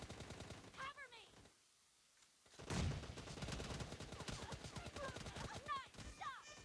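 Gunfire in the video game PUBG Lite during a team deathmatch: rapid automatic bursts with a brief lull, then dense continuous shooting mixed with game voices and effects.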